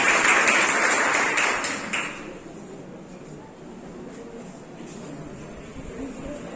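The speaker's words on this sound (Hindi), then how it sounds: "जोरदार तालियां फिर से बजनी चाहिए" An audience at a Hindi Diwas celebration claps: a burst of crowd applause for about two seconds that tapers off into a quieter room murmur.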